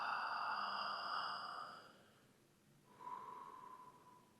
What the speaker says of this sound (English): deep abdominal breathing